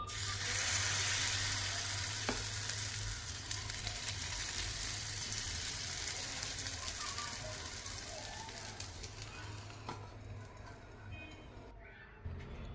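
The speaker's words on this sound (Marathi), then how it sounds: "आता आपण दुसरा पण डोसा घालणार आहोत थोडंसं तेल घेतलेलं आहे परत दोन चमचे बॅटर" Bun dosa batter frying in a little hot oil in a pan gives a steady, close, loud sizzle that slowly fades, with a faint clink or two of a spoon near the end.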